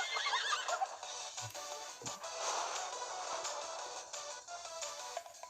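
A winged horse in Miitopia gives a short whinny, backed by light game music and a couple of soft hoof-like clops, heard alone without talk.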